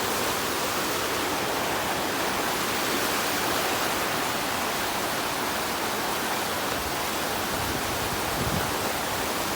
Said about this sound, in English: so the river's flowing well today